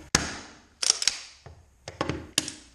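A nail gun drives nails into wood while basement wall framing is built, several sharp, loud pneumatic bangs arriving singly and in quick pairs with short gaps between them.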